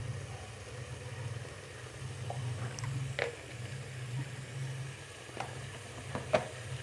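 Red chili powder goes into a pan of green chana curry, which sizzles with a low, steady frying hiss, joined by a few faint clicks and scrapes, close and quiet, with no talking.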